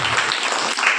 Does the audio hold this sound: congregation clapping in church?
yes